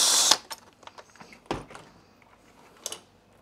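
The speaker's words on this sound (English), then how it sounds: "On the bottom, you do have to go through quite a few screws to get to the brush roller." Phillips screws being removed from the base plate of a Hoover High Performance Swivel MAXLife bagless upright vacuum, a loud scrape then scattered small clicks, taps and a sharp knock, close up.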